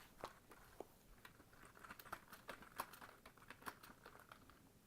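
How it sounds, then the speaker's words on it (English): Faint clicking of a computer keyboard being typed on in irregular bursts, quiet and close, with no voices. "Apologies for the typing."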